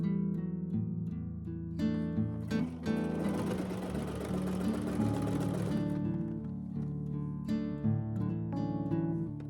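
A sewing machine stitches closed the opening of a quilted jacket with a steady mechanical whir, running continuously for a few seconds at moderate, close volume, with a quieter start and finish.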